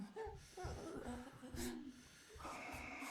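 A video game character named Hudson breathes heavily and out of breath, with quiet rhythmic panting and snorting exhales at low volume, mixed with faint talk.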